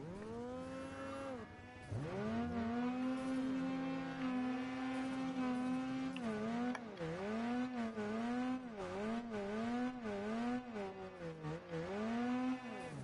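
Snowmobile engine held at full throttle in a sledding video game, a loud continuous high whine that rises and falls in pitch as the sled crests and dips, running steadily through the whole stretch with no talk.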